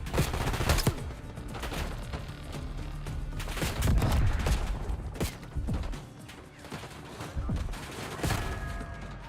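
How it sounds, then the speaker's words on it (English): Rapid video game gunfire crackles through a firefight, with bursts of automatic shots and heavy impacts layered densely and loudly throughout, with no quiet gaps. "Exchanging fire."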